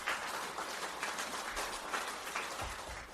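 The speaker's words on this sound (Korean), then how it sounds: "박수 한번 부탁드리겠습니다" Audience applause at a lecture, a faint, steady patter of many hands clapping for about three seconds, with no voices over it.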